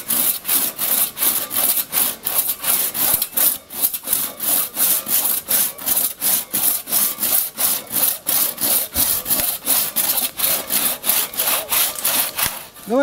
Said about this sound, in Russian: Делай так, чтобы пила не выскакивала.